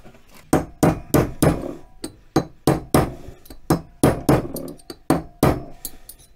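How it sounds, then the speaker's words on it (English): Steady, evenly spaced metallic hammer taps on a drift, seating a part during MGB wheel bearing and steering rack installation, about two strikes per second, close up and ringing briefly, with no talking. "I'll tap it home with a drift and a hammer."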